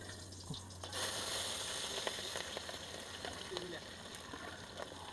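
Chopped vegetables hit a pan of simmering chicken gravy, a steady close sizzle with bubbling that holds through the whole stretch, with some background noise mixed in.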